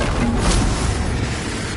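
A Confringo explosion spell goes off in the Hogwarts Legacy video game, heard as a dense, loud, sustained roar of blast noise with no clear separate impacts.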